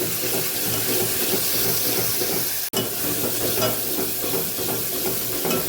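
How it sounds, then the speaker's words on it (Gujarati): Ginger-chili paste sautés in a pan for Gujarati kadhi, giving a loud, continuous sizzle and crackle with a brief dropout near the middle and no voices. "પેલા આપણે સરસ સાતડી લેવાની છે આદુ મરચાંની પેસ્ટ"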